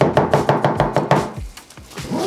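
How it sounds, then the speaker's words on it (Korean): A knife chops kimchi on a cutting board: about a dozen crisp, rapid knocks in a steady rhythm, close and loud, then a few slower, duller cuts with no talk. "꼬다리 따고 썰고 우리 밖에서 먹는 막김치처럼 크기로 딱딱딱 잘라서 준비해주면 돼"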